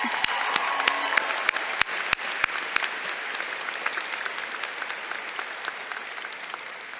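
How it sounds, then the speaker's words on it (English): Applause from an audience at a college commencement ceremony, a broad steady clapping wash with a few sharp, close individual claps standing out near the start, tapering slightly toward the end. "Can we give him one more round of applause?"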